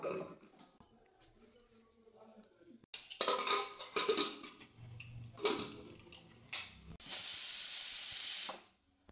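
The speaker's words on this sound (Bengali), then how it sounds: "এবারে একটু প্রেসার কুকারে একটা সিটি দিয়ে নেব।" A pressure cooker steaming with diced potatoes inside, starting with soft ticks, clatters and kitchen handling, then a loud, steady whistle-hiss that sustains for under two seconds before fading out.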